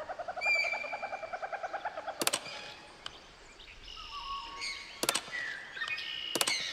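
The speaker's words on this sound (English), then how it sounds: "Stanley flipped through one video of silly birds after another" Silly birds calling from the Stanley Parable Ultra Deluxe video game: a rapid rhythmic run of hooting, owl-like notes, then scattered chirps, whistles and several sharp bursts, fairly close and clear with no talk.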